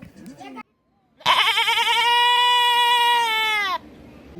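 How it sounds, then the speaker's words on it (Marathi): A goat bleats close by outdoors, resting spot after a trek to Kalsubai peak in Maharashtra; one long, loud, wavering bleat of about two and a half seconds follows brief talk and a short silence. "हे काय शेळी म्हणतात ना शेळी"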